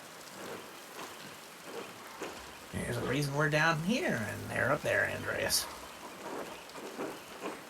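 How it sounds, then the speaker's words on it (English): Steady rain and a low rumble of thunder from the video game Pentiment, falling on an abbey during a stormy morning, a constant wash beneath a conversation between characters. "Rain falls on the Abbey and rolls downhill to us little people."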